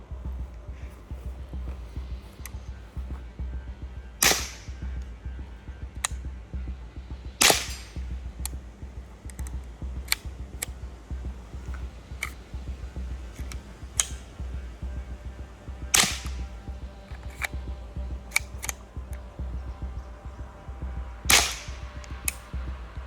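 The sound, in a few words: suppressed pistol shots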